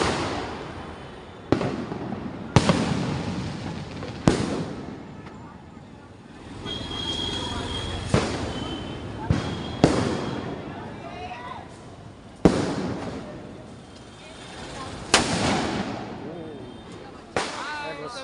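Diwali fireworks and firecrackers burst over a residential area in Hiranandani, with sharp loud bangs every second or two over a continuous crackling, hissing roar, and voices talking in the background.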